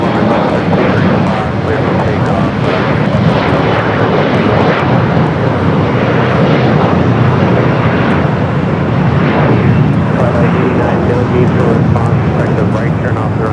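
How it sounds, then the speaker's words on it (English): Heavy airliner arriving on the south side at LAX, a loud, sustained roar of jet engines filling the whole stretch, with people talking over it. "Next, heavy arrival here on the south side."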